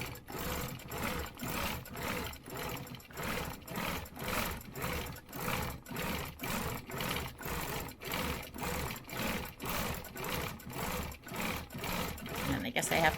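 Sewing machine stitching rings of zigzags on a stencil project, a close, steady rhythmic chatter with regular pulses of needle strokes running continuously throughout.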